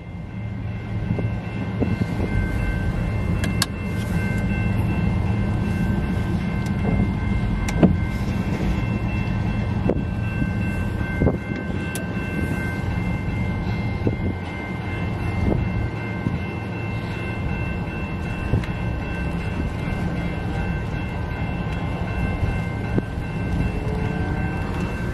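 An eastbound CN freight train with CN 3235 and CN 2860 locomotives rolls past steadily in Battle Creek, Michigan, a continuous heavy rumble with squealing wheels and clanking cars, plus occasional wind buffeting.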